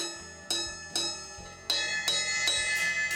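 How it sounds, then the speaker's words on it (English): Drumstick striking the bell of a cymbal in a drum lesson, six bright ringing pings spaced about half a second apart, each sustaining into the next, with a quiet low rhythmic pattern underneath. "There's also bells on cymbals."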